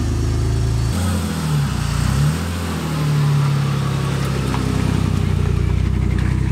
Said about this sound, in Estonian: Keera võtit ja BMW käib.